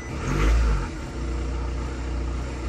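A car engine revs briefly, then settles into a steady, low rumbling idle close by.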